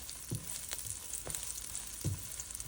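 Garlic frying in oil, a faint, steady sizzling hiss with a few soft thumps of stirring, heard quietly with no talk.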